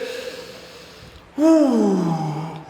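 A deep, audible breath drawn in during a spoken meditation on a fresh breeze. It comes as one loud, voiced gasp that swells and then falls away into a sighing release, after a quieter stretch.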